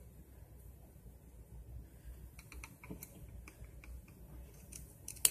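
Faint, crisp snipping clicks from scissors trimming hair, a handful of quick cuts against a quiet room with nobody talking.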